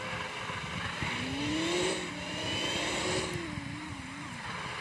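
A Rolls-Royce car driving in a video game, a continuous engine drone that rises and falls slightly in pitch as it accelerates, steady and fairly loud with no voices.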